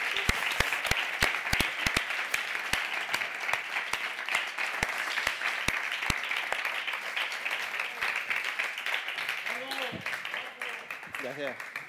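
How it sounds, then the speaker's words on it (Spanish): Studio audience at a Catalan comedy show applauds for Sergio, a steady wash of clapping with sharp close individual claps on top, while voices talk and laugh over it. "Li fem un aplaudiment perquè se senti una mica bé"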